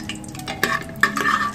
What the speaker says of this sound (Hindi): 2 सिनेमन, 4 लौंग एंड 2 ग्रीन इलायची, इसे हम सौते करेंगे।